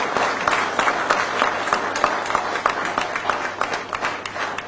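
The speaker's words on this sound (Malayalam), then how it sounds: "മലയാളികളാണെങ്കിൽ ശക്തമായി കൈയടിക്കാൻ മതിയാകും" A crowd at a political speech in Kerala claps loudly and steadily, a dense continuous wash of applause from many hands with no voice over it.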